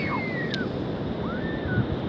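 Ocean surf rolling in along a rough shoreline, a steady loud wash of breaking waves with wind buffeting the microphone and a couple of high gull-like calls above the roar.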